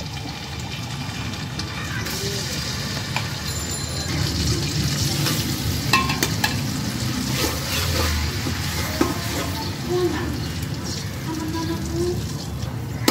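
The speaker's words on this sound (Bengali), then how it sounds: "পেঁয়াজ পেস্ট ও গরম মশলার তেলে ভাজা হয়ে গেছে" Onion paste and garam masala frying in oil for chicken pilaf at an outdoor picnic, a continuous close sizzle with clattering stirs and scrapes, plus occasional water-like splashes and a faint voice in the background.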